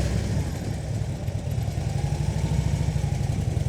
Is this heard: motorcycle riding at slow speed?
yes